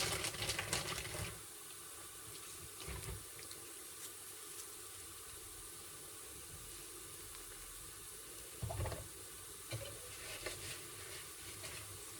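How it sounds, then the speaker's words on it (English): Cold tap water runs over frozen spinach in a kitchen, a faint steady splashing hiss with a few louder bursts at the start and near the end, with no talking. "So I've run cold water on it."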